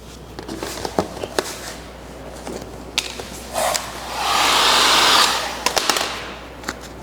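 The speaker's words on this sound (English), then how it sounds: "Apply heat first and allow the film to relax." Heat gun blowing hot air onto vinyl wrap film on a car's front bumper, a steady broadband whoosh lasting a couple of seconds amid scattered handling clicks and taps.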